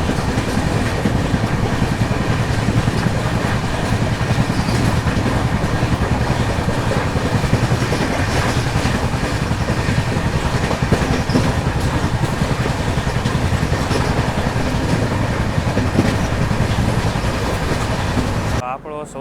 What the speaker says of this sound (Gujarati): સૌરાષ્ટ્ર મેલ આવી ગયો છે આપા રેલવે સ્ટેશન ઉપર.